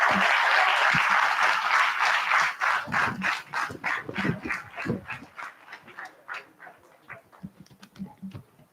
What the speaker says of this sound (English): So give a big applause to the two families again.